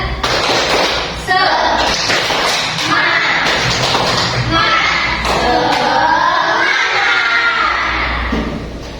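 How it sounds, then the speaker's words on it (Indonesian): A classroom of children doing the tepuk semangat clapping chant: loud, busy claps mixed with shouting young voices, continuous and energetic, with a teacher's voice among them. "kita tepuk semangat dulu ya"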